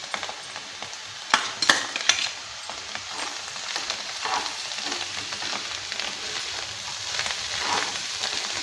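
Steady sizzle of cabbage curry frying in a pan as boiled chana dal is added, with a few sharp clinks of a spoon against the pan over continuous crackling, close and alone.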